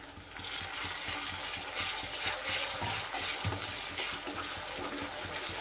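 Tomatoes go into hot oil with onions already fried golden for an egg curry, making a loud, constant close sizzle with faint rhythmic stirring scrapes throughout.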